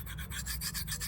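A knife is drawn across a coarse grit whetstone in quick, even rasping strokes, the sound faint and close with no other noise.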